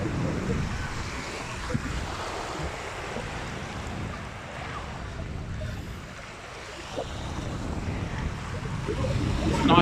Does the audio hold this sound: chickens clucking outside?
no